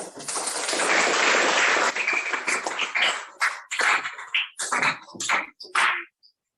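A classroom of students clapping hands together, a loud dense burst of close claps that thins out into scattered individual claps and then stops.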